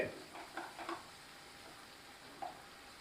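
Tomatoes sautéing in a pan for a hotel-style country chicken fry, a faint, steady sizzle broken by a few soft stirring scrapes and clinks, heard close up with no talking.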